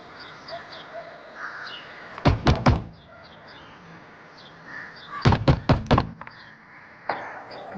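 Knocking on a door, two bursts of three or four sharp raps, close and loud, over quiet room tone with faint background noise.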